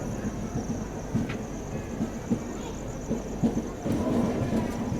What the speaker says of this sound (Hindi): सामने से झेलम एक्सप्रेस जो ना वो भी एंट्री ले रही है। पुणे जम्मू तवी झेलम एक्सप्रेस।